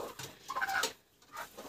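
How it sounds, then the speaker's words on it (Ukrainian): Broody hens cluck in a farmyard just after being let out, giving a few short, close, bright clucks and calls in quick succession with a brief pause between them. "Випустила ось квочок"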